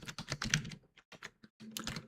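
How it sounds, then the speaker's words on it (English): Rapid clicking keystrokes on a computer keyboard, close and fairly quiet, in short bursts with brief pauses between them. "because I can't be bothered typing out full things on this thing"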